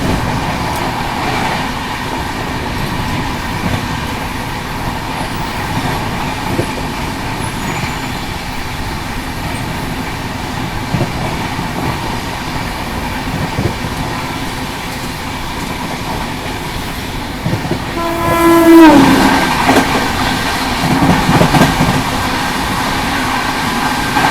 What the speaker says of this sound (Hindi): चलो अभी फिलहाल तो क्रॉसिंग दिखाते हैं बिहार संपर्क क्रांति से।